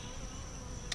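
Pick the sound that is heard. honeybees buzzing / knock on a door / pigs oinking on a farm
honeybees buzzing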